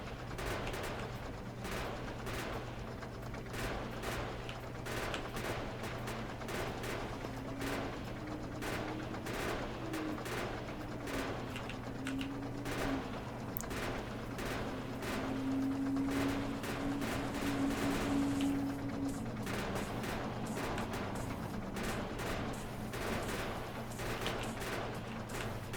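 Sustained rapid video game gunfire while clearing trees around a base, dense repeated shots in long bursts over a steady background hum, with no talking.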